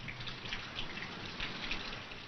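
Light rain falls steadily as a soft, even patter of drops, faint and continuous, with no voices.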